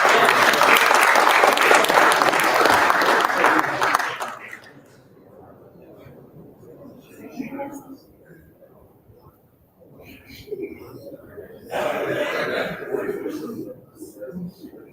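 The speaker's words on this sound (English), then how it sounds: "Let's give a round of applause." Loud audience applause fills the opening seconds at a student awards ceremony, then stops abruptly. Quieter room sounds and scattered voices follow, with a second short burst of clapping near the end.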